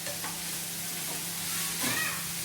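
Squid masala stirred in a pan until light brown, a soft continuous sizzle with a gentle scrape of the spoon near the end, close and fairly quiet with no speech.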